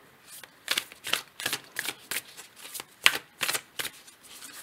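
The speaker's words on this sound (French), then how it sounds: "je vais tirer une carte" Tarot cards are shuffled in quick riffling bursts, about a dozen crisp close rustles at an even rhythm, with a small snap as a card is drawn.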